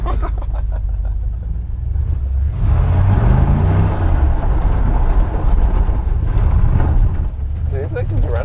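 A Chevrolet C10 truck rolls down the road with its engine running, a steady low rumble under heavy road and wind noise from inside the cab, with no pause across the clip.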